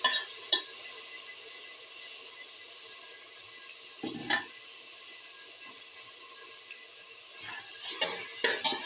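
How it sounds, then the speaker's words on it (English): Tomato paste sautés in a pan for tomato fenugreek leaf rice, a soft steady sizzle broken by a few utensil scrapes and clinks against the pan. "Saute the tomato paste thoroughly."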